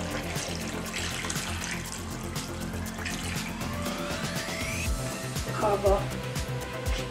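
Water pours steadily into a pot of chicken curry with golden curry sauce mix and onion, splashing in a continuous stream while kitchen sounds continue around it.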